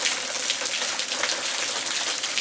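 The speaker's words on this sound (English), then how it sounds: "Just to show you how bad it's raining" A heavy rain downpour on a patio, a dense, loud and steady hiss of water pouring and splashing over hard surfaces, continuous and close.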